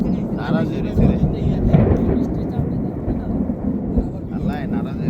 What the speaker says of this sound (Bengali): হঠাৎ করেই প্রচণ্ড বজ্রপাত আর ঝুম বৃষ্টি।